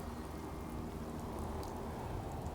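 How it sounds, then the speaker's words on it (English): Steady rain ambience from the video game Fallout 4, a constant dense hiss of falling drops with low rumble underneath, unbroken and even throughout with no voices. "there's no way for me to remove the heads-up display and leave the rain effects behind"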